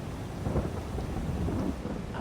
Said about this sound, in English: The amount of bloody raining it's doing.